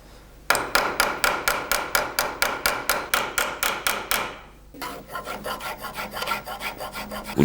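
A hand rasp files the edges of a deer antler knife handle in fast regular back-and-forth strokes, loud and close, about two strokes per second, then shifts to quicker, softer smoothing strokes; no voices.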